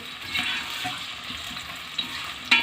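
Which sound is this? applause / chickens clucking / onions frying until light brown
onions frying until light brown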